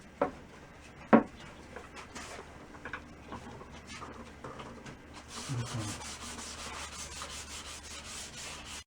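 Hand buffing the finish of a 1966 Ludwig WMP drum, a soft steady rubbing with a couple of sharp knocks early on, then a denser, slightly louder scrubbing stretch toward the end, close to the microphone.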